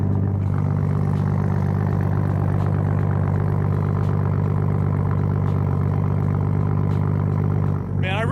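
A Toyota A90 Supra fitted with an RK Titanium single 4-inch exhaust, idling close by with a deep, steady, rumbling drone that holds a constant pitch throughout, loud and near, ending with a brief higher blip.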